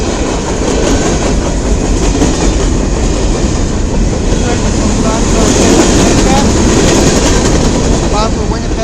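A CN M301 westbound mixed freight train rolls past at Emmett, Michigan, a loud, steady roar of rail cars with rhythmic clickety-clack of wheels over joints, filling the whole stretch close to the track.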